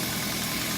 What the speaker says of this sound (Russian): все-таки решил я запустить двигатель, чтобы наглядно вам показать